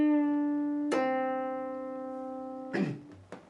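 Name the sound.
guitar note bent up a full step, played slowly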